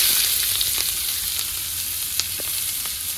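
Chopped onion frying in hot oil with garlic in a home kitchen pan, a continuous close sizzle with occasional small pops and light stirring clinks, no voice.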